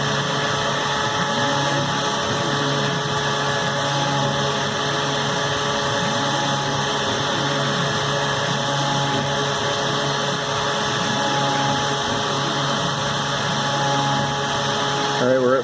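A Tormach PCNC 770 CNC mill cutting at 6,000 RPM and 45 IPM, giving a loud, steady machine drone with a constant whine and a faintly pulsing hum throughout, close up and unbroken.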